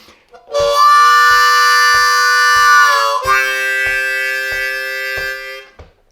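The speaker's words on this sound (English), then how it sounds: "So what I'm doing, I'm playing a 4-draw bend, which I'm releasing up to a clean note." On a C harmonica, a held 4-draw bend slides up into a clean note, then a second sustained tone follows, loud and close over a regular soft beat.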